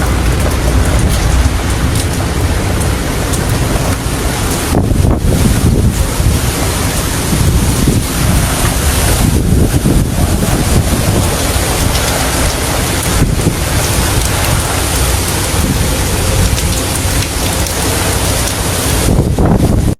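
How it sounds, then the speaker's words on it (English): Hurricane Melissa lashes Jamaica with heavy rain and strong wind, a loud continuous roar with gusts buffeting the microphone and surges rising and falling throughout, no voices. "The rain and breeze are rolling."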